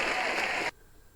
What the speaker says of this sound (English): Hey yo, give him applause, bro.